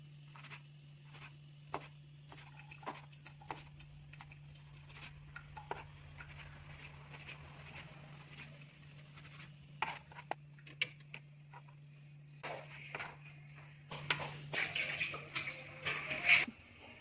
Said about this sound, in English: I'm gonna chop the meat into small pieces.